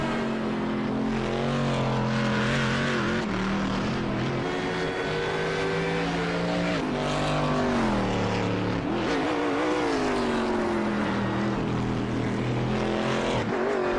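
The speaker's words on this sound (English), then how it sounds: "Aggressively downshifting there, and you're not too happy about it." A GT race car in a sim racing endurance event at Road Atlanta roars loudly and continuously, its engine note dropping sharply through rapid downshifts and climbing again, with other cars' engines audible behind it and no talk.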